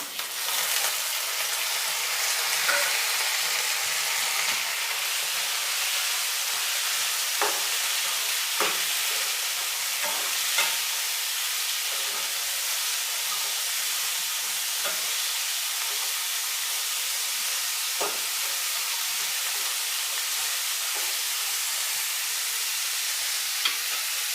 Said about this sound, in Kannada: ಈರುಳ್ಳಿ ಫ್ರೈ ಆಗಿದೆ ಸಣ್ಣ ಸಣ್ಣದಾಗಿ ಕಟ್ ಮಾಡಿರೋ ಮೂಲಂಗಿನ ಸೇರಿಸ್ತಾ ಇದ್ದೀನಿ